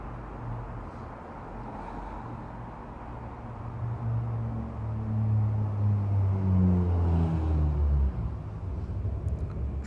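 Street traffic outside a comedy club: a steady low rumble of vehicles with one car approaching and passing close by, its engine tone rising and then falling away, no voices.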